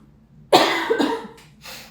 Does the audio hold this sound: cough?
yes